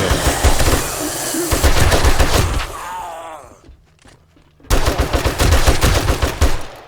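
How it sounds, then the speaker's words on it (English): M60 machine gun fired in the video game 7 Days to Die: long, dense bursts of rapid automatic fire, loud and close, broken by a short quiet pause before shooting resumes. "Oh, I love the M60. What a fun gun."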